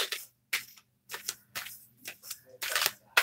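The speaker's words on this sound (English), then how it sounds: "just shuffling my deck" A tarot card deck is shuffled up close in a series of crisp, papery riffling bursts separated by short pauses, over a faint low hum.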